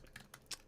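A few soft, quick keystrokes on a computer keyboard, faint and close, with no voice over them.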